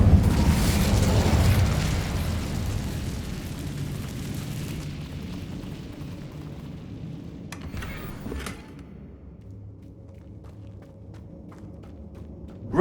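A fire spell blasts in the Hogwarts Legacy video game, a loud roaring burst of flame up front that rumbles down over several seconds, with sharp crackling pops near the end.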